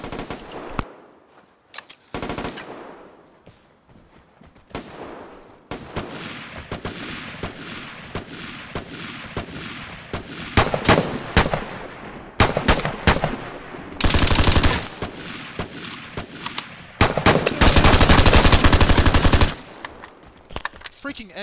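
SKS rifle fire in the video game Vigor: bursts of sharp, loud shots come in clusters, some rapid and dense, with short pauses and game ambience between volleys.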